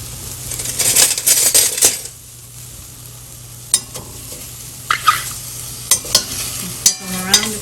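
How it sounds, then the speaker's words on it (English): Mushrooms dry browning in a pan without added liquid: a spatula stirs and scrapes with a cluster of clinks at first, then a soft, quiet crackle broken by occasional sharp taps. "Dry browning mushrooms is the same exact technique."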